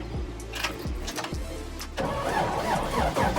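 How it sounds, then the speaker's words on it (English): A Toyota FJ40 Land Cruiser with a manual transmission cranks in several short, labored turns, then catches and settles into a steady, close engine rumble. "So without further ado, let us start up the FJ40."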